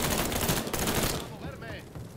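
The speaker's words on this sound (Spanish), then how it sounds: "Ver de dónde vienen los disparos." Dense gunfire rattles in rapid bursts during a firefight in the Mafia 3 video game, loud at first and then thinning out, with game audio continuing underneath.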